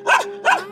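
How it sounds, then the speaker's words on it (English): A dog on a hillside road in Montenegro gives two quick, close barks about a third of a second apart, loud and tonal, with nothing else around them. "Oh, here's another cute pup."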